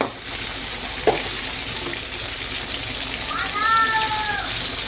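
Raw katla fish fries gently with spices in a pan, a soft steady sizzle with a light knock of a utensil, and faint voices beneath.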